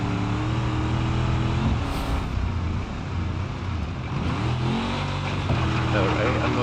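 Engine of a vehicle driving in the BeamNG.drive racing game, a steady droning rumble with shifting revs and harmonic whine, continuous and prominent beneath someone talking.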